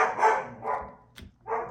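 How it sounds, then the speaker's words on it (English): A dog barks a few times close by, sharp yappy bursts separated by short pauses. "So sorry about the dog."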